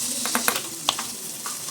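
Onions, ginger, mustard seeds and dried chillies sautéing over medium-high heat for prawn theeyal, with a close, crackling sizzle and a few sharp pops and stirring scrapes.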